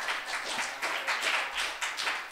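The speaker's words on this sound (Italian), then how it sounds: "Fate un applauso a Piazza, per favore." Studio audience applause on an Italian talk show, several bursts of clapping that swell and fade in waves, moderately loud and close, with no voices over them.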